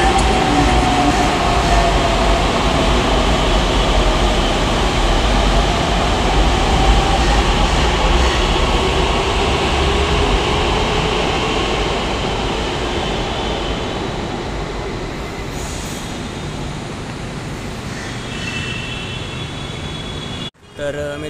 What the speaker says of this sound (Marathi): The train to Mandas is going to enter platform number 2